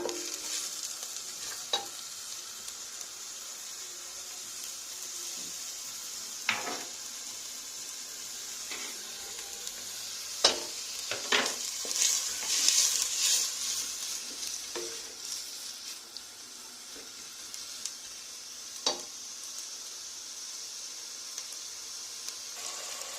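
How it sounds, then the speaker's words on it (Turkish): Onions frying in a pan for a Turkish dried white bean stew, a quiet continuous sizzle with occasional sharp clicks and scrapes of stirring. "soğanlarımız pembeleşinceye kadar biraz kızartacağız."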